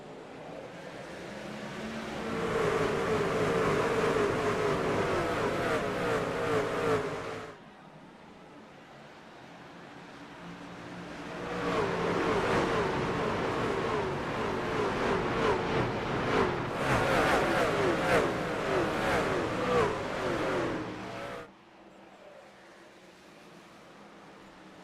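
Race truck engines in an iRacing league race at a simulated track drone in a broad, steady roar that swells, fades briefly and returns, with no talk over it.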